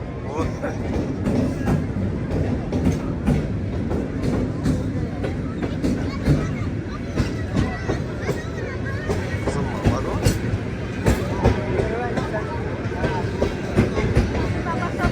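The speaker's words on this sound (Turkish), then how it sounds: "Taşkent poyezi geldi" A train pulls into a Tashkent railway station on arrival, its steady rumble and wheel clatter rolling on throughout beneath a continuous murmur of waiting crowd chatter.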